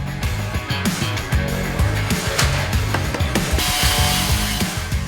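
Tile being cut to size on site during a renovation of a 60-year-old house into a cafe: a loud, harsh grinding with rhythmic low thumps and scraping, continuous and close, no talk.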